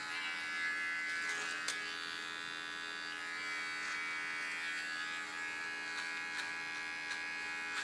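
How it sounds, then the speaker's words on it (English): A small electric hair clipper buzzes steadily while trimming a contour line during a haircut, a faint, close, continuous whine with slight changes in pitch and a few soft clicks. "I do only the contour line with my small clipper"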